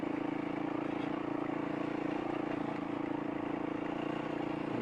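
A steady, low motorcycle engine hum at low revs in high gear on a rough trail in Sundown National Park, droning evenly throughout with no talk.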